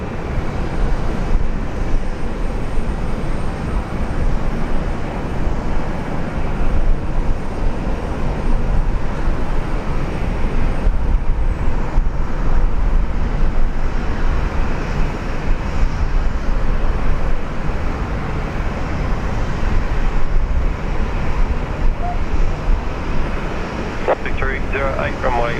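A Singapore Airlines jet on approach to land at Brisbane International Airport in heavy rain, a broad continuous roar of engine noise heard at a distance, steady throughout.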